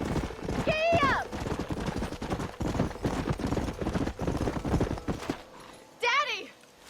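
A horse in the video game Red Dead Redemption gallops with a quick, steady clip-clop of hooves, opening and closing with a shrill whinny, loud and close throughout.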